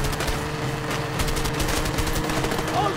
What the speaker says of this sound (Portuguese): eu encho o cara de tiro e o cara não morre!